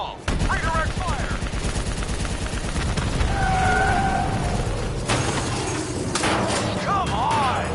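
Rapid automatic gunfire rattles in a Call of Duty Black Ops 3 battle, loud and sustained bursts mixed with metallic clanks and whining tones, while voices shout over the shooting.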